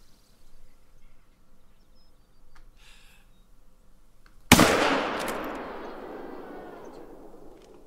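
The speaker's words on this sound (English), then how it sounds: "We might have to go for a 243 shot on this guy, just because he's so big." A single sharp .243 hunting rifle shot fired at a blacktail buck in theHunter: Call of the Wild cracks loudly out of quiet outdoor ambience with faint bird chirps, then rolls away in a long fading echo.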